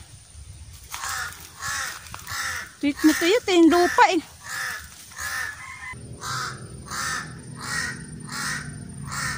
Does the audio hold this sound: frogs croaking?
no